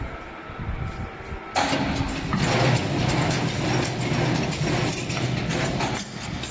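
A 25 kW CNC hoop bending machine shaping 4–12 mm ribbed steel rebar starts up with a sudden mechanical surge, then grinds and ratchets loudly and continuously nearby.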